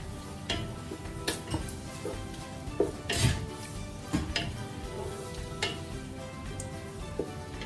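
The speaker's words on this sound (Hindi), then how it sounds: "मैं इसमें ये जो साबुत सारे मसाले ये भी मैं ऐड कर रही हूँ।" Whole spices sizzling in hot oil in a pan for peas pulao, giving a steady frying hiss broken by light scraping and clinks of a stirring spoon against the pot.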